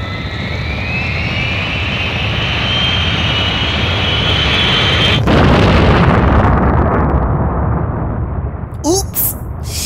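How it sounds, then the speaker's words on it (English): Main engines starting in the video game PaRappa The Rapper 2, a loud rising jet-like roar that swells then bursts into a broad rumbling blast, fading with a few clicks at the end. "Please start the main engines."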